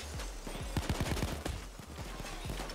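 Rapid, close gunfire in Payday 2 during a bank heist, a dense run of sharp shots with booming low tails, continuing in quick bursts throughout.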